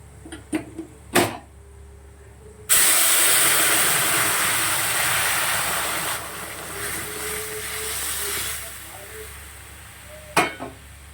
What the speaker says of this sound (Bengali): সামান্য একটু ফোড়নে দিয়ে ডালটা ফোড়ন দিয়ে নামিয়ে নেব